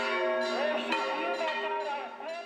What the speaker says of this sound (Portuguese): as badaladas imponentes do sino de 820 quilos reforçam a fé de cada morador